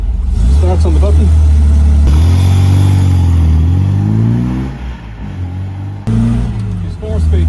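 A 1968 MGB roadster with a 4-speed manual gearbox and overdrive, rebuilt on a heritage shell, fires up and pulls away, its engine note droning and rising loud and close as speech runs over it.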